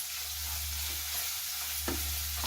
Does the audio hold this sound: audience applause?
no